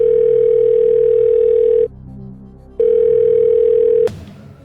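A steady telephone dial tone sounds alone, stopping partway through and then resuming, as a phone call is placed on a televised Pakistani political comedy show; a sharp click cuts the second tone off at the end.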